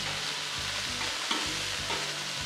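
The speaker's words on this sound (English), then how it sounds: "it's kind of just frying in its own fat" Chicken wings sizzle steadily in their own fat on a hot Blackstone griddle, a constant crackling hiss with a few scraping stirs of a utensil.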